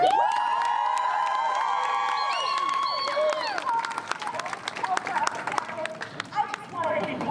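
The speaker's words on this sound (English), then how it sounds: "Let's clap it up for Chris Malls." A crowd at a divestment banner-drop rally applauds and cheers for Chris Smalls, scattered clapping and shouts building after loud amplified speech at the start.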